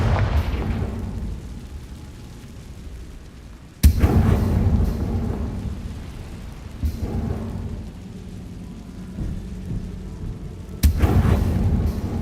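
Two heavy booming blasts from the Confringo fire spell in Hogwarts Legacy hit several seconds apart. Each rumbles over a low, steady ambient wash, with softer thuds between them.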